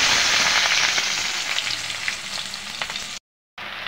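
Whole cumin seeds sizzling in hot oil in a wok, a steady bright crackle with scattered pops, briefly cut to silence near the end before resuming.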